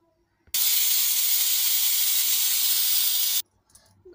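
Pressure cooker with potato and drumstick sambar releasing one loud, steady steam whistle lasting about three seconds, beginning and ending abruptly, close by in a kitchen.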